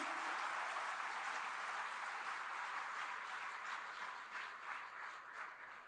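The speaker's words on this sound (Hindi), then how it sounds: "एक बार जोरदार तालियों से अभिनंदन" Sustained, dense applause from a large audience at a political gathering honoring BJP national president JP Nadda, steady and loud throughout, fading slightly toward the end.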